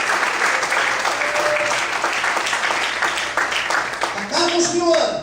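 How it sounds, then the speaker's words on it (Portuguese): A church congregation applauds together in steady, dense clapping that goes on throughout, with voices rising near the end. "Quantos podem aplaudir e glorificar a Ele nesta noite?"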